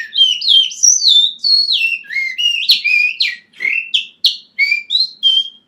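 A person whistles a slow imitation of a bird chirp, a series of clear, pitched warbling notes with short pauses between phrases, close and loud in a quiet room.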